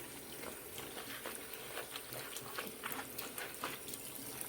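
Warm water runs steadily into a small sink while horse hair is rinsed, a soft, faint, continuous splashing hiss with no voices.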